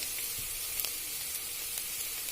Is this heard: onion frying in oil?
yes